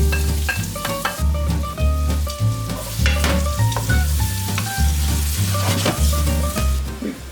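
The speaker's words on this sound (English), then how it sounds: "You hear the sizzle? The shallots, the garlic" Shallots and garlic with crushed red pepper sizzle and fry steadily in a pan for a vodka sauce, a loud continuous crackle with stirring and occasional clinks of utensils against the pan.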